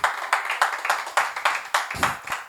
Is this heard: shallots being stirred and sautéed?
no